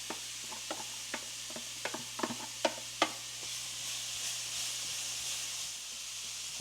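Peppers and onion frying in a lightly oiled pan give a steady close sizzle, with a run of sharp clicks and scrapes from stirring in the first few seconds before the hiss settles and carries on alone.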